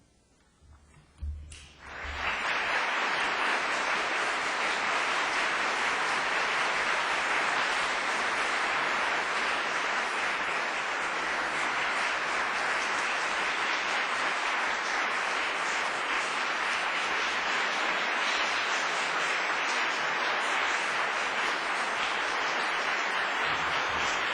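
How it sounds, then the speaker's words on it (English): Sustained audience applause after a talk at an event on faith, starting abruptly after a short quiet moment and holding steady and loud for over twenty seconds without speech. "The applause thanks you."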